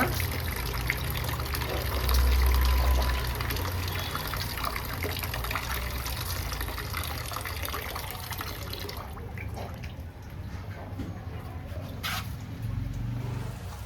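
A tap runs in a steady gush for several seconds, then the flow thins and fades out, leaving a quieter room.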